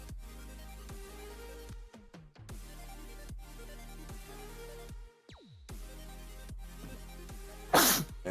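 One sharp, loud sneeze bursts out near the end, after a stretch of quiet background sound.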